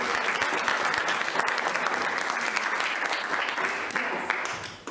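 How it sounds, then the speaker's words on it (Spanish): Applause from an audience at a psychology film forum, dense steady clapping that stays loud and even for about five seconds with no talking over it. "les pido a todos que le demos un gran aplauso a Tomás."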